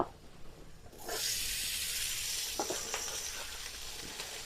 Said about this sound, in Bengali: এই যে ভাত আমার ভাজা হয়ে গেছে